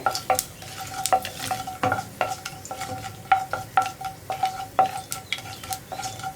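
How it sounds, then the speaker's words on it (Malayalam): Cinnamon and mustard seeds frying in hot oil for a brinjal curry, a close sizzle broken by frequent sharp pops and crackles as the seeds burst in quick, irregular succession. "ഇപ്പോൾ നമ്മുടെ കടുക് പൊട്ടി തുടങ്ങുന്നുണ്ട്."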